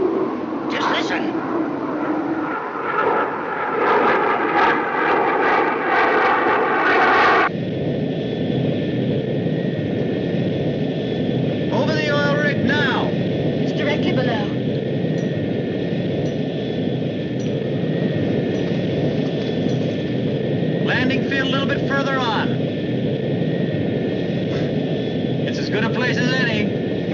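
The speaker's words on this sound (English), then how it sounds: "It's an aircraft. It can't be. No one can fly in this." A distant aircraft engine drones steadily over desert wind, a constant low rumble with a faint high tone, while voices talk over it throughout.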